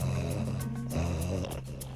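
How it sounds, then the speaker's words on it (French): A deep, rumbling snore drawn out over two seconds, loud and close, its low, rough drone wavering slightly in pitch with no talk over it. "Ça, c'est un ronflement, ça?"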